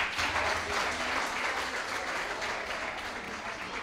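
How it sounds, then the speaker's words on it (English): A school assembly audience claps in a broad, sustained wash of applause, strongest at the start and easing slightly toward the end, with no clear speech. "a very big round of applause for all of you"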